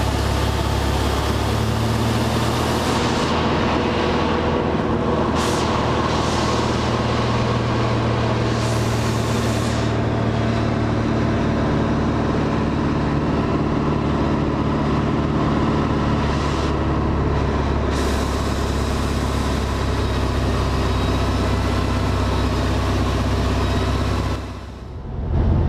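Light aircraft engine idling at about 1,000 rpm, a steady close droning hum with a constant low rumble that holds throughout and dips briefly near the end.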